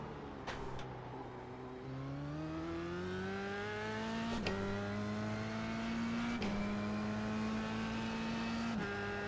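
Race car engine on a qualifying lap in the iRacing sim around Montreal, a steady moderate drone rising in pitch through each gear, broken by quick shift cuts at regular intervals.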